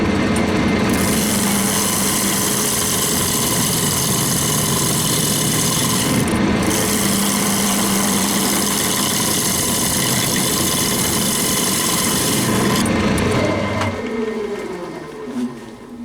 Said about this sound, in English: then you just start shaping the outside of your bowl. Just using a 1/2 inch bowl gouge for this